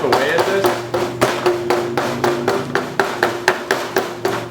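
Rapid repeated chopping taps of a blade chipping shavings off a chemical fire starter block, about a dozen evenly spaced close knocks, with a voice faintly underneath.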